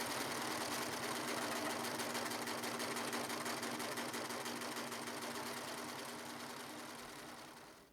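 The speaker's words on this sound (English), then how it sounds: "I'm trying to serge the edge without cutting too much off." Serger sewing machine finishing a fabric edge, a steady fast whirring stitch close by that runs throughout and tapers off at the end.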